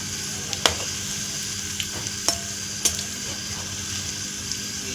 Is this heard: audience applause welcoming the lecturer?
no